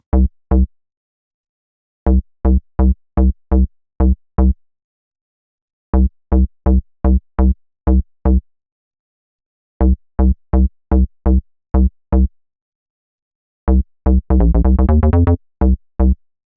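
Short punchy synth bass notes hit in quick groups separated by silences, ending with a rapid stuttering burst of repeated hits.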